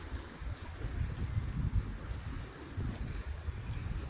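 Gusty wind at a lake in Switzerland buffets the microphone in a continuous low roar, with faint rushing texture behind it.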